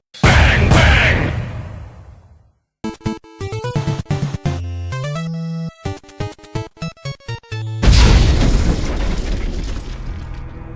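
Loud, booming grenade blasts in a game erupt at the start and again near the end, each a heavy, ringing burst, with a stretch of choppy tonal game sounds between them.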